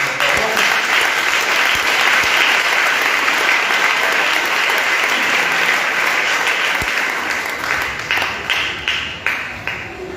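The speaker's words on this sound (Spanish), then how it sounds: "Así es que palmas para nuestro Señor y para nuestra Madre Santísima." A congregation at an Advent church service in Retalhuleu, Guatemala, applauds for about eight seconds in a loud, dense, sustained burst, then thins into scattered fading claps.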